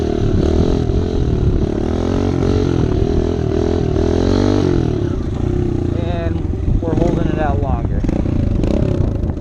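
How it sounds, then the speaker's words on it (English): A dirt bike idles and revs in first gear on a slope ahead of a wheelie, its engine droning loud and close while someone talks over it almost the whole time. "I'm in first gear right now, nothing on the clutch, just power"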